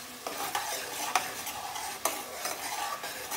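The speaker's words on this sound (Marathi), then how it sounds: "कांद्याची पेस्ट पण छान परतून घेऊ" Roasted onion paste sautés in a hot pan, a steady close sizzle broken by several sharp scraping stirs of a spoon against the pan, with no voices.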